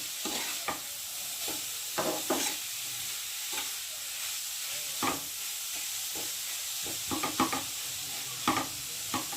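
Grated carrots fry in ghee for carrot halwa, a soft steady sizzle running throughout with repeated scraping strokes of stirring, some sharper clanks of a utensil against the pan, close and moderately quiet.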